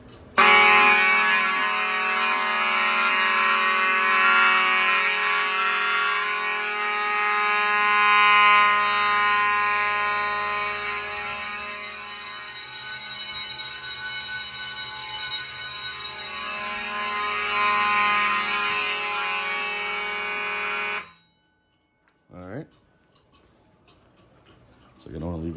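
Edwards fire alarm bell rings continuously and loudly at close range for about twenty seconds during an alarm system test, then cuts off abruptly, followed by brief faint clicks.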